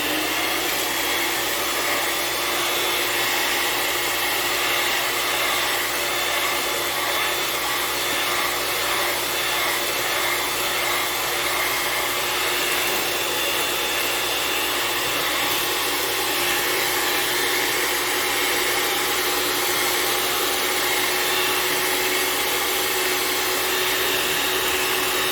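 An electric mixer whirs steadily at low-to-medium speed through cake batter with an added egg, a loud, even motor hum that holds without break for the whole stretch, no voices.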